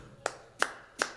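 Three sharp, evenly spaced hand claps keep a steady beat, as an audience claps along to a four-on-the-floor song, close and clear with no talking.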